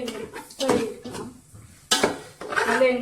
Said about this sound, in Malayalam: നമുക്ക് നല്ല മോണം ഒന്ന് ഇളക്കി എടുക്കണം